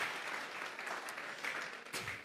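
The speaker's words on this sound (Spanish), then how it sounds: "Vamos a regalarle otra ofrenda de palmas al Dios de la gloria." A church congregation claps together in sustained, fairly faint applause that fills the room as a continuous patter of many hands, with no speech over it.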